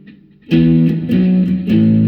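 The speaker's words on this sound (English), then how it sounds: "I had to drop the level down to 3 on my actual channel because I pulled the drive up to 4 to get that crunch." An electric guitar with crunchy drive distortion played through a Behringer V-Tone GMX212 amp, loud, with three strummed chords ringing out in succession after a brief quiet lead-in.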